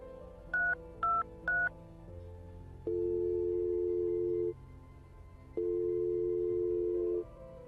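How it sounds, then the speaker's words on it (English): Three quick touch-tone dialing beeps, then two long, steady telephone ringback tones with a gap between them, heard clearly with no voices. "I rang the number."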